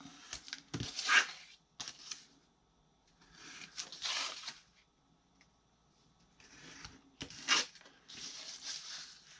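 Scissors cut into scored paper to snip off a corner piece, giving a few short crisp cutting and rustling bursts with quiet gaps between them, close and fairly faint.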